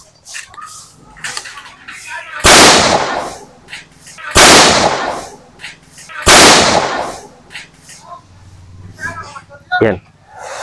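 A homemade bamboo cannon (boga) fires three loud, booming blasts at roughly even intervals outdoors. Each is followed by a fading rumble, and voices talk in between.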